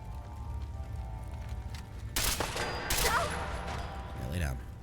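Gunfire erupts in a shooter video game, a burst of loud bright cracks around the middle with a shorter volley near the end over steady background game noise.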